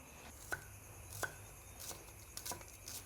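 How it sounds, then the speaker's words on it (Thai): Sharp, evenly spaced knife chops slice shallots on a cutting board, several distinct strikes at a slow steady pace, close up in a quiet room. "หั่นหอมอยู่น้อยก่อน"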